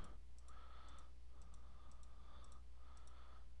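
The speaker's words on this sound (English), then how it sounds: "just start clicking and making my shape" Mouse clicks placing curve points while drawing a shape in Rhino 3D: a few quiet, evenly spaced clicks over a steady computer hum, with no talk.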